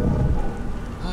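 Steady rain with a low rumble of thunder in the video game Beyond: Two Souls, a dense continuous wash that holds evenly throughout with no voices over it.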